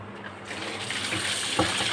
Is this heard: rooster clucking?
no